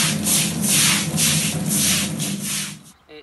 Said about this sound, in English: in the afternoon we just swill off with a good old fashioned bucket and brush